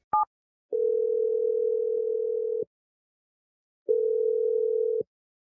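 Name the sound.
telephone dialing and ringing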